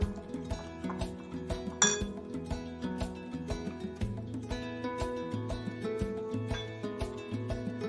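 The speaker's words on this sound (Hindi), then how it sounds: "हम इन सबको अच्छे से मिला लेते हैं, मिक्स करते हैं" Chicken kabab marinade with vinegar being mixed in a bowl, a steady run of light metallic clinks and taps from a spoon against the dish, fairly quiet and close, with no talking.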